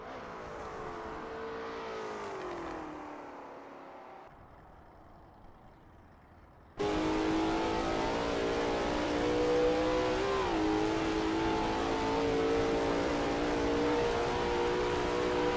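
Lola T70 MkII Spyder race car in a racing game, engine note rising and falling through gear changes, then a sudden louder, steady roar after a brief quieter stretch, continuous with no talk.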